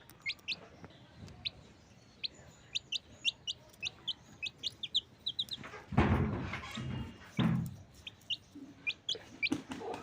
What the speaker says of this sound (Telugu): ఇది పెద్ద కోడి పిల్ల